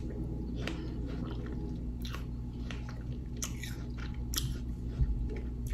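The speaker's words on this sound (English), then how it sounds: "I think I'm going to eat this last piece of watermelon." Someone eats a piece of watermelon, with soft wet bites and squishy chewing repeating at close range over a steady background hum.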